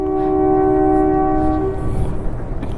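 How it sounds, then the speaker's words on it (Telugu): A train horn sounds near a coal yard and mining area by a hillside church in Visakhapatnam, a loud sustained multi-tone blast that holds, then fades into rumbling train noise. "వినిపిస్తుందా మీకు ట్రైన్ హార్న్?"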